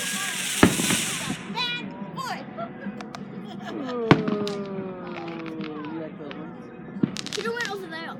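Fourth of July fireworks pop and bang at a distance, with a few sharp louder bursts and whistling rising trails, while people talk and shout excitedly nearby throughout.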